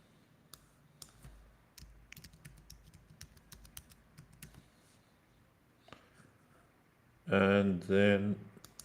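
Quick, scattered clicks of someone typing a name on a computer keyboard, soft and close, run for about seven seconds before a person starts speaking near the end.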